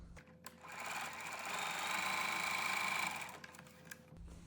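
A sewing machine stitches a seam on a flannel rag quilt, whirring steadily for about three seconds after a brief start and then stopping, close and fairly quiet.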